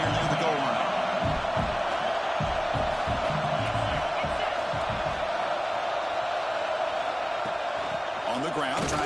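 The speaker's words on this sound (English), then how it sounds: "this big crowd doing everything possible to inspire this defense down here near the goal line" A big stadium crowd in a football video game roars steadily near the goal line, a dense continuous wall of cheering with a commentator talking over it.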